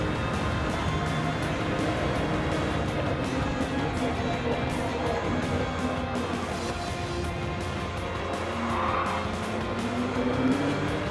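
A GT500 race car in a racing video game roars continuously at high revs while its tires squeal and skid, with the engine note shifting steadily throughout.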